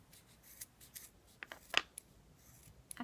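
Scissors snipping through paracord while making a keychain: a few sharp, close snips and crisp blade clicks scattered over three seconds, the loudest cut near the middle, with quiet handling between.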